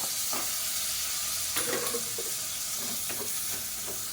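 Tomato frying with spices in oil for a carrot rice dish, giving a steady, close sizzle with a few scraping stirs. Nobody speaks.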